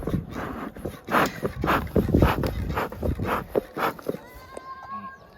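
A dog barks and whimpers in short, irregular bursts while playing with kids outdoors near horses, with children's voices and movement around it and a high tonal whine near the end.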